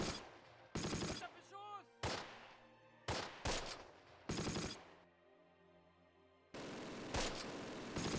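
Machine gun fire in the World War II strategy game Close Combat: sharp bursts of automatic fire separated by brief pauses, loud and close, with a short stretch of quieter rumble between the volleys.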